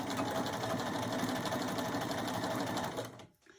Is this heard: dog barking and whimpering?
no